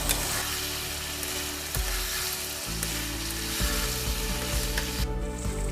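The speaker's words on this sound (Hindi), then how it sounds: "बीच में हल्का फुल्का चलाते रहें ताकि चिकन कढ़ाई से चिपके नहीं।" Chicken fries in a kadai for a restaurant-style chicken masala, giving a loud, continuous sizzle and crackle close by, with occasional spatula strokes and clanks against the pan and no voices.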